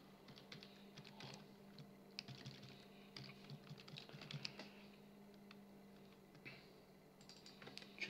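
Steady close typing on a computer keyboard while writing code for a web service, a busy run of light clicky keystrokes with brief pauses, no talk.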